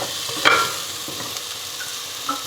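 Carrot, beans and potato sautéing in a pan for vegetable pulao, a steady close sizzle with a few stirring scrapes and light utensil clinks, no voices.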